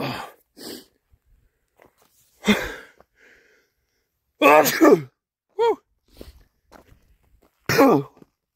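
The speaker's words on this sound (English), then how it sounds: "I'm about to sneeze right now." A single sharp sneeze bursts out outdoors near pollen-shedding junipers, among scattered short noises and quiet gaps, close to the listener, with brief breathy sounds around it.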